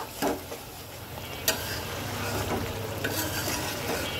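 Goat meat curry frying in a pan after garam masala is added, a steady low sizzle with a few stirring scrapes and clinks, close and fairly quiet.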